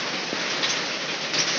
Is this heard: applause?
no